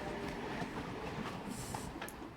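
A train rumbles along in the Indiana Jones video game, a dense, continuous rolling roar with faint rhythmic wheel clatter, loud and steady with no talk.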